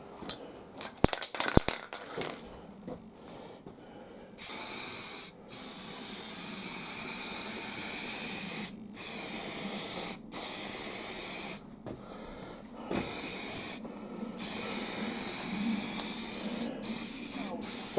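Black paint hisses from an aerosol rattle can in several bursts of steady spray separated by brief pauses, close and fairly loud, with a few clicks and rattles at the start before the spraying.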